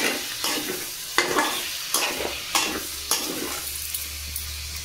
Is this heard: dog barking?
no